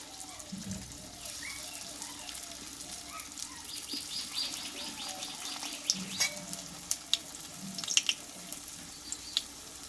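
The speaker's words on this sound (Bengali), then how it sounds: "বাকি টিফিনগুলো আমি এই তেলে ভেজে নেব" Chana dal snacks frying in a pan of hot oil give off a steady, fairly quiet sizzle with scattered sharp crackles and pops. The crackling grows busier toward the end, and a faint voice sits underneath.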